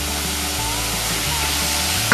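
Chopped carrot and tomato fry loudly in a pan, a close, dense and continuous sizzle with faint stirring throughout.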